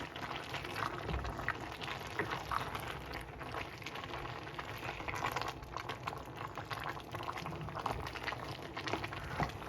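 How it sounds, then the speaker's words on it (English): A pot of corn and beans porridge bubbles and simmers steadily, with thick, continuous gurgling close by and soft hints of stirring underneath. "add it into my corn and beans porridge. And give it a little stir."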